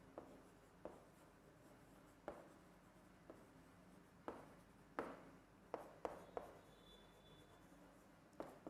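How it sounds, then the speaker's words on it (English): Pen or pencil strokes scratching across paper as organic chemistry notes are written, coming in irregular bursts of scribbling with short pauses, close and fairly quiet with no talk. "So, I am writing this part."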